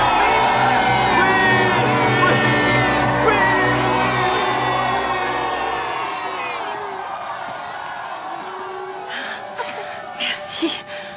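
A crowd cheers and shouts in acclaim for Abraham's newborn son Isaac, a loud sustained roar of many voices that slowly fades, with scattered cries and whoops near the end.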